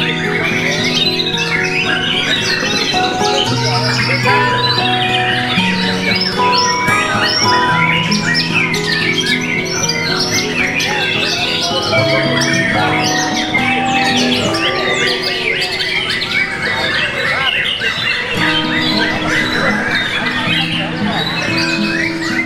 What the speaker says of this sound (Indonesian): Burung di tempat saya yang saya sayangi